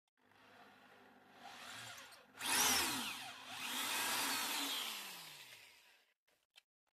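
A power drill whirs in bursts while wiring a three-way loudspeaker, its pitch rising and falling as it spins up and winds down, fairly quiet and close.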